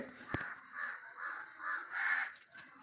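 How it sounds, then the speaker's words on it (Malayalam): Crows and other birds caw and call loudly in repeated bursts while mobbing an owl, with a sharp close call near the start. "പക്ഷേ കാക്കകളും കിളികളൊക്കെ ഈ മൂങ്ങ അവിടെ വന്നിരിക്കുന്നതുകൊണ്ട് നല്ലതുപോലെ ശബ്ദം ഉണ്ടാക്കുന്നുണ്ട്"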